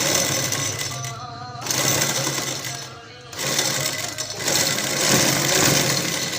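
A sewing machine stitches piping along a trouser hem in bursts of loud, fast mechanical chatter, stopping twice for short pauses before running again, with some voice mixed in.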